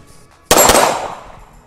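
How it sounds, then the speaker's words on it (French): A single loud, sharp pistol report from a Springfield Armory 1911 DS Prodigy at an outdoor range, up close, with a long fading echo after it. "À 15 mètres, on arrive quand même à faire un double tap sans aucun souci."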